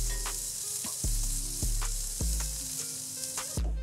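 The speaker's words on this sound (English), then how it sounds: "Then you put in some onions and some basil, also known as curry leaf. You stir this well." Onions and curry leaves frying in oil, with a loud, steady sizzle and a handful of spaced stirring scrapes that come close up.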